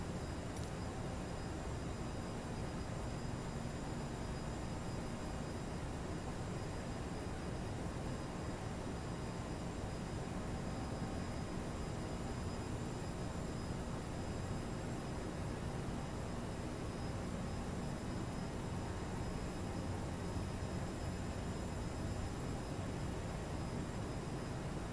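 Aerosoft CRJ 900 airliner jet engines in a flight simulator, a steady broadband cabin-like rumble and hiss with faint high whine, constant and even throughout.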